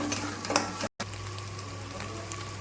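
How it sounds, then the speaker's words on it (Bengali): Spices with Kashmiri chili powder fry in a pan for egg korma, a steady close sizzle with light stirring crackles, broken by a brief dropout of silence before the sizzle resumes. "আবার এটাকে একটু কষিয়ে নিই।"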